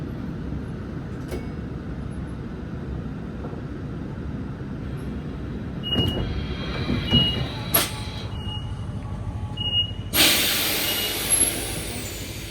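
A passenger train runs on a suburban line toward Macarthur with a steady low rumble, brief metallic wheel squeals and hisses breaking through midway, and a sharp bright hiss near the end.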